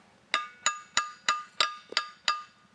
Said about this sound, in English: I'm going to go over and drive the wedge in again and get the jaws biting on the very edge